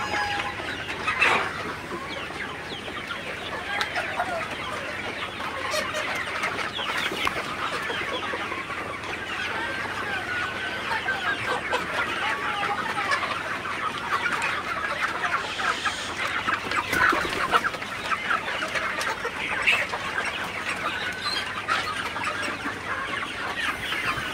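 A crowded shed of Sonali and broiler chickens pecks at feed on a hot, humid day, giving a dense, continuous chorus of overlapping clucks and soft calls at close range, with no talking.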